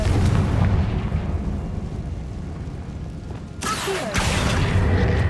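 A Confringo spell explosion goes off in Hogwarts Legacy: a sharp blast erupts midway and then leaves a deep, rumbling boom. The blast stands out over steady low game ambience.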